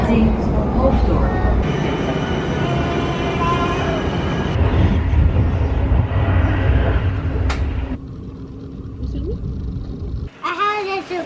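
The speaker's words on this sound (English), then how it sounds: "I like the yellow train." A yellow Dutch passenger train riding toward Schiphol Airport gives a steady interior rumble and rattle throughout, with voices talking over it and a brief shift in tone near the end.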